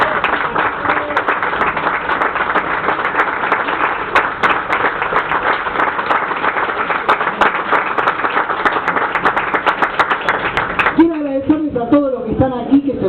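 Applause from an audience at Argentina's first heavy metal book fair rolls on loudly and continuously for several seconds, then gives way to someone speaking into a microphone near the end.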